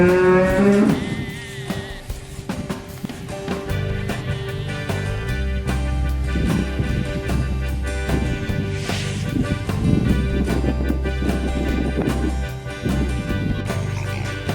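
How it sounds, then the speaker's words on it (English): A farm cow moos in long, low, drawn-out calls that carry on steadily over a soft continuous background, loud and close. "Cow."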